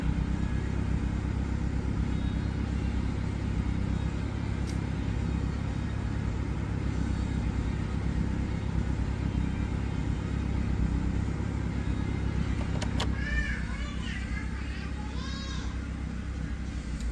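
A car engine with a carburetor idles in a steady, close, droning rumble while its idle screw is being adjusted, with a brief voice and a faint whine near the end.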